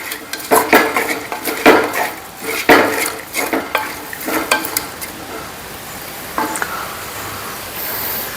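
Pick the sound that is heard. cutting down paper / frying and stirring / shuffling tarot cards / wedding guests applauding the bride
frying and stirring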